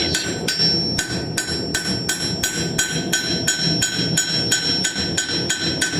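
A hammer texturing a hot forged steel piece rings out in steady, evenly spaced blows, about two per second. The impacts are loud and close, with metallic ringing between strikes and no talk.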